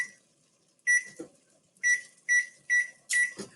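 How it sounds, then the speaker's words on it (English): Oven control panel beeping as it is set to preheat to 400 degrees in a home kitchen: five short, bright electronic beeps spaced irregularly, close and clear, with faint kitchen handling noise between them. "next we're going to preheat our oven to 400 degrees"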